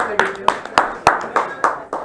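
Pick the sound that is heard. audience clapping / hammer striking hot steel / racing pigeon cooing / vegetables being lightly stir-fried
audience clapping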